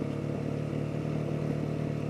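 A motorcycle engine runs steadily nearby, giving off a loud, even drone with a low rumbling pulse and no change in pitch.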